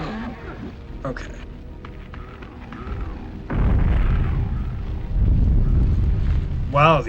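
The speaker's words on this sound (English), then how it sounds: "Wow, the explosion killed him." Explosion in the video game Nightmare Creatures, a loud deep boom rumbling for a few seconds after quieter game sounds, with a brief voice at the start and end.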